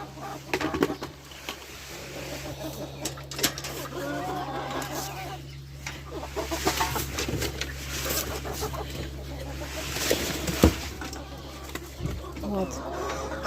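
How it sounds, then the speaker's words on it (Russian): Ducks and chickens cluck and call in a farmyard, with scattered bursts over a steady low hum and wind-like noise, and a person speaks intermittently. "Утки, куры."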